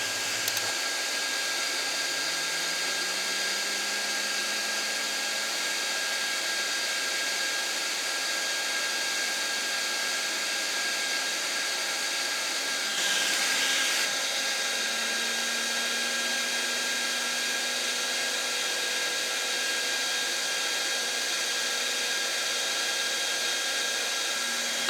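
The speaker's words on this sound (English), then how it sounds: "We're going to turn a hairdryer on and see what kind of voltage we can get out of it." A hair dryer blows steadily onto a PC fan generator, giving a constant whooshing roar with a faint whine that slowly rises in pitch, and a brief bump in loudness midway, with no talking.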